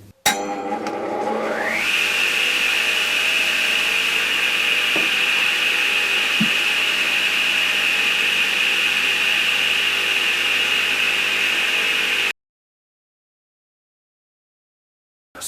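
A power tool cuts open a box for a DIY CNC control cabinet, a steady high-pitched whine holding loud and even for about ten seconds after a short spin-up, then stopping abruptly into silence.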